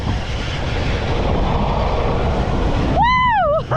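The Steel Dragon roller coaster train at Waldameer Park rumbles along the brake run, a loud, steady roaring rush of wheels and wind close by, followed near the end by a sharp rising-and-falling shriek of the brakes.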